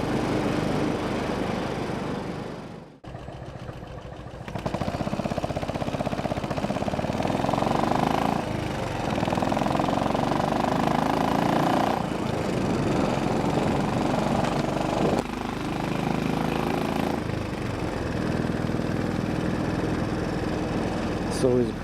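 A Royal Enfield motorcycle engine drones steadily while riding through town traffic, with a brief dip near the start and shifts in pitch as the throttle changes. A rider talks over the engine noise.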